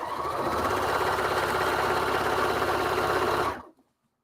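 A sewing machine stitches a narrow seam with a fast, steady mechanical whirring and rattling, running continuously before stopping abruptly into silence.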